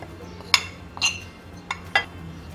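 A spoon clinks sharply against a bowl four separate times as yogurt, cornflour and green chilli paste are mixed for Dhaka chicken. The clinks are close and clear over a soft background.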